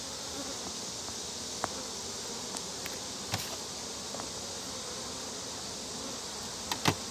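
Honey bees buzzing around an open hive during an inspection, a dense steady drone throughout with a few brief clicks and knocks, no talking.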